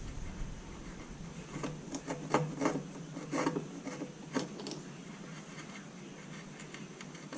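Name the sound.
fine gouge carving wood hair texture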